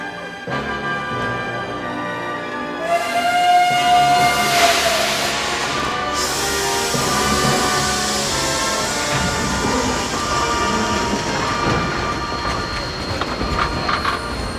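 A steam train running with a long whistle blast, rhythmic chuffing and rumbling wheels continuing loud and close throughout, no talk.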